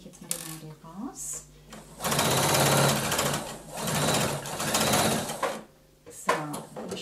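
Sewing machine stitching along a poncho seam while attaching a band, running in two long loud bursts separated by a short pause, with quiet speech before and after.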